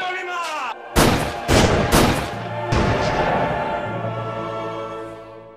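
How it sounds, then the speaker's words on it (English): Gunfire sound effect: four or five loud, sharp shots in quick succession, each ringing out with a booming, echoing tail that fades away. "They had them shot."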